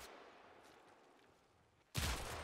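A single close, loud gunshot from the Warframe video game, fired as a body shot at an enemy, bursts out sharply after a quiet, faintly hissing stretch and then rings on briefly.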